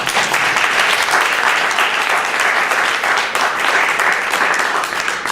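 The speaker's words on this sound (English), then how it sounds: "give a great round of applause to all our speakers" Audience applause at a regional best-practices conference session, a steady, dense wash of clapping sustained for several seconds without a break.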